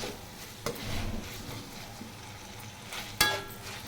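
Vegetable noodles being stirred and tossed in a pan over low gas, with a soft background sizzle, scraping strokes and a couple of sharp clanks against the pan.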